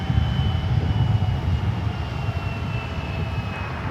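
An American Airlines jet taking off from runway 1 left at San Francisco airport, with a steady, distant engine roar and a thin high whine holding throughout.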